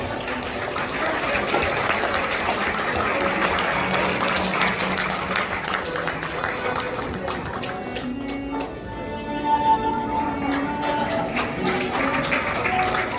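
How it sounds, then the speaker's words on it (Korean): Wedding guests in a Korean reception hall clap in a long, steady round of applause that carries on for many seconds, moderately loud, with some background chatter and a brief lull near the end. "여러분 박수 부탁드립니다"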